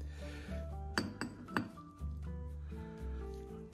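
Metal bolts being fished out of a WD-40 container during a Porsche 968 restoration, giving a few sharp, close clinks around the middle over low background hum.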